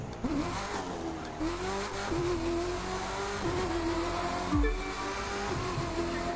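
A car engine in the racing game The Crew 2 revs steadily through a Las Vegas street race, its pitch rising and falling as gears shift, held at a constant moderate level with no talk over it.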